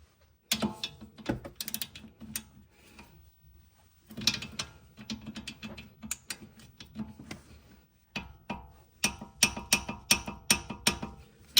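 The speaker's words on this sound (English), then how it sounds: "we'll get a torque wrench and tighten this to 48 foot-pounds or 65 Newton meters" A torque wrench ratcheting while tightening a front anti-sway bar end link on a 2005 BMW 325xi E46, bursts of rapid close clicks separated by short pauses, repeated several times.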